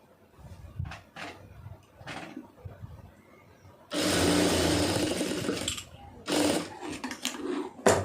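A sewing machine stitches two main fabric pieces together for a tailored garment, running in loud continuous bursts of motor whir and needle chatter with short pauses between runs, after quieter handling sounds at the start.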